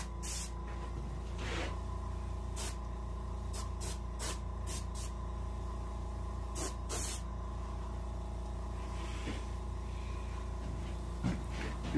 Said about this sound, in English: And now I'm angle spraying.